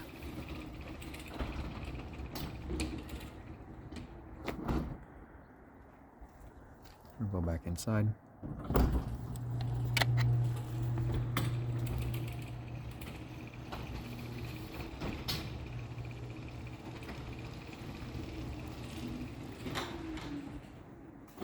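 A low mechanical hum and rattle of a garage door opener running the door for several seconds, with a person speaking briefly over it.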